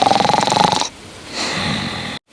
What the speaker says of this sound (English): why is bro snoring so loud?